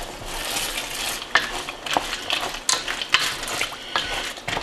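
Rotini noodles are stirred into a pot of pasta with sausage, a close scraping and clattering with irregular knocks of the spoon against the pot over a steady simmering hiss.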